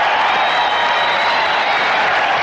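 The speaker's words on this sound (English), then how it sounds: "The crowd is very partisan for Hagler, as you can see or hear." A partisan boxing crowd at a Marvin Hagler fight roars and cheers in a dense, continuous wash of noise that stays loud for the whole stretch.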